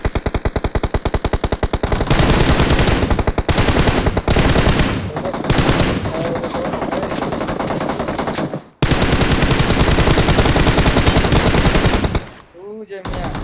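Video game gunfire in an Icemire Frontier mode match: loud, rapid machine-gun bursts crackle almost continuously, with short gaps and a few single shots.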